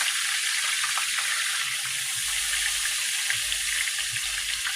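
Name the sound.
breaded chicken pieces frying in a pan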